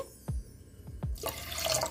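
A few quick drips and splashes, then a rushing stream of water pours into a pan, close by and growing louder.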